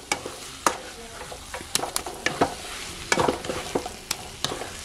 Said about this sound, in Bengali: একটু খুন্তির সাহায্যে এইভাবে সাঁতলিয়ে নিতে হবে